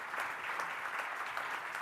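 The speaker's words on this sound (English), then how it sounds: "We can have a round of applause." Steady round of applause from a seated coworking conference audience, continuous dense clapping of moderate loudness throughout, no voices over it.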